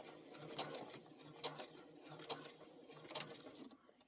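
A sewing machine stitches a wall hanging sleeve in quiet, regular bursts of rapid mechanical chatter with short pauses between runs, faint and close.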